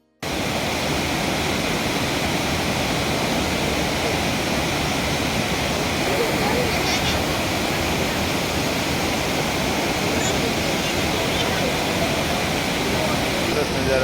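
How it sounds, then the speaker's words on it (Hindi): Steady broadband rush of a waterfall beside a bridge on the mountain road to Badrinath, constant and fairly distant, with no breaks or distinct splashes. "ये ब्रिज के पास हम रुके हुए हैं, इधर भी बढ़िया सा पीछे वाटरफॉल है।"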